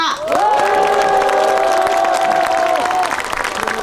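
A crowd at a subcontract workers' rights rally breaks into a loud, sustained cheer with clapping beneath it. The cheer holds for a few seconds, then eases off.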